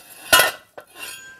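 Metal lid of a homemade foundry furnace clanging shut during its first firing, one sharp metallic clank followed by a lighter knock and a soft scrape, close and clear with no talking.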